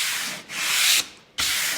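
Painted wood sign being sanded by hand for a distressed farmhouse finish, heard as two long, close rasping strokes separated by brief pauses, with no voices.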